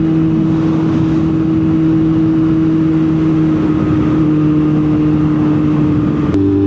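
Steady engine drone of a motorcycle while riding on the road, a constant low hum with a droning tone held throughout, loud and close with wind noise, no talk.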